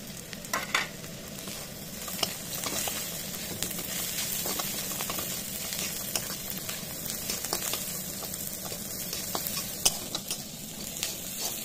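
Cashews fry with browned onions in a pan for a chicken chaap dish, giving a constant soft sizzle broken by light clicks and stirring scrapes, close and moderately quiet, with no talking.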